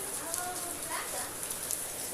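Rain falls steadily outdoors during a puja, a continuous soft hiss and patter with faint voices underneath.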